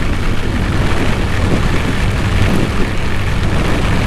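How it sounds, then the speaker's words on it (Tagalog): Heavy rain pours down during a motorcycle ride, a loud, dense, continuous roar of water and wind that stays steady throughout. "sobrang lakas ng ulan guys"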